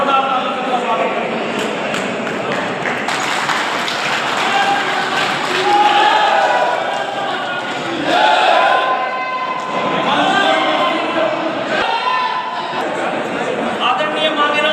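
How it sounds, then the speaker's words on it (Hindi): Applause and crowd chatter from young people at a BJP youth gathering, a sustained, loud wash of clapping and cheering with voices mixed throughout as a guest is welcomed. "एक बार इस स्थान पर खड़े होकर जोरदार तालियों से उनका स्वागत करें"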